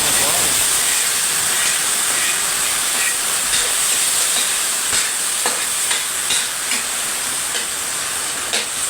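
Mung beans sautéing in a pan give a steady, loud sizzling hiss, with occasional crackles and stirring scrapes on top, close up throughout.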